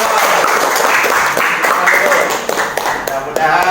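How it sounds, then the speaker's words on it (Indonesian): A group claps for Kak Tio during a teachers' mentoring session, a close, busy patter of many hands that runs continuously, with voices faintly mixed in beneath the clapping. "Oke, beri tepuk tangan buat Kak Tio."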